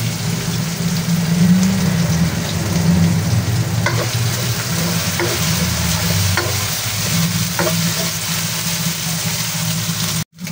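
Sliced ham frying in a pan until golden brown, a steady close sizzle and crackle throughout with a few faint clicks, no talking, cut off abruptly near the end.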